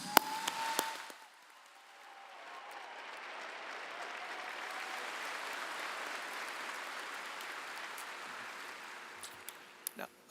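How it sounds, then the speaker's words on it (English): A crowd applauds the graduating class of 2024 at a high school graduation ceremony, with a few sharp claps and cheers at first, then steady applause that swells and fades, plus a few late claps. "class of 2024, you have found success with your hard work, and you deserve a round of applause."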